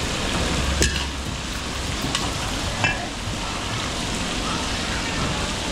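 Onions sautéing in a pan during Filipino catering cooking in Lubao, Pampanga, with dense, even sizzling like rain and a few sharp stirring scrapes scattered across it.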